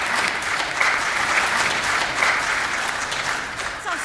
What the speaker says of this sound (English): I'd like to invite you to join me now in a round of applause for Vi, for a very special lady and her life